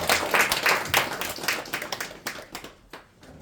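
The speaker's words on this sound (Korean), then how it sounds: "우리 다 같이 하나님의 영광의 박수를 올려드리도록 하겠습니다" A church congregation claps during a family invitation worship service, a few hands tapping in uneven, moderately close bursts that thin out and fade toward the end.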